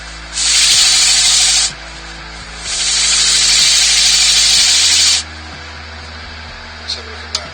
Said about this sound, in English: Get some shavings and just burnish off